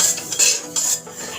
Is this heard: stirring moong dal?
yes